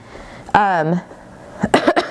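A single throaty cough rings out, followed a moment later by a few rough, rasping cough bursts close to the mic.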